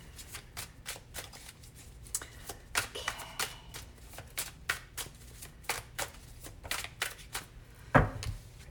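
Tarot cards shuffled in repeated quick riffles and slaps, a steady run of crisp bursts close by, ending with a sharper louder card tap near the end.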